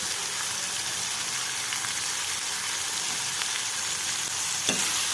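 Ginger, garlic and green chillies fry in a pan with a loud, even, close sizzle that hardly changes, broken once by a single light knock near the end.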